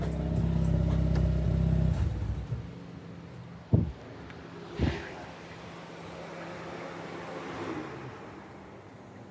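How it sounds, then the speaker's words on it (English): A Mazda RX-8 rotary engine idles with a steady hum, then is switched off, followed by two sharp clunks and quiet ambience. "let me go ahead and turn off this car real quick"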